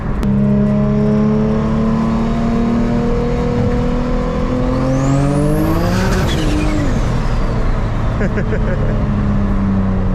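An 800-horsepower turbocharged VQ V6 in an Infiniti G37 revs hard nearby, rising in pitch as it passes with a whooshing sweep, then fading back to a steady roar.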